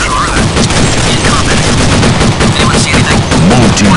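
Rapid, loud gunfire in the zombie shooter Counter-Strike Nexon: Zombies, dense automatic bursts firing nonstop and close, layered with battle effects throughout.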